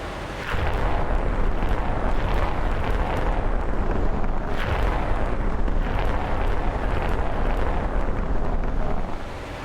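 Brahmos missile batteries launch in a naval wargame video game, producing a continuous loud roaring rumble with surging blasts that swell and ease over several seconds.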